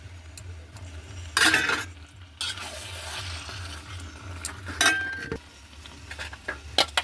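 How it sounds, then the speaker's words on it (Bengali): Tomatoes sautéing in a pan for chicken biryani, with repeated loud scraping stirs and clinks of a utensil against the pan over a low hum and soft sizzle, close up and without talking. "কিছুক্ষণ কষাবো বন্ধুরা। এবার দিয়ে দেবো টমেটো"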